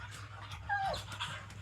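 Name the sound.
dog vocalizing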